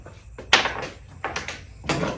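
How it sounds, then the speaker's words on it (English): Door panel parts of an Acura RSX Type S being pried and pulled off during disassembly for a race car build, a series of close, sharp clicks and rattling knocks in irregular bursts. "I'm gonna start disassembling this door."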